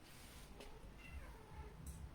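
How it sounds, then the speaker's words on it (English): A pet cat meows faintly in a quiet room, a couple of soft, drawn-out mews under low background hiss. "my cat wants to chime in"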